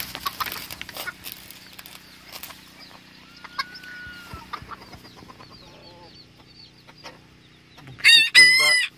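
A Spanish breed rooster crows loudly near the end, a harsh, strained call that breaks after a long stretch of faint clucking and farmyard chatter.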